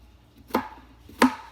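Two sharp, close knife chops through large shrimp on a cutting board, a little over half a second apart, with no talk.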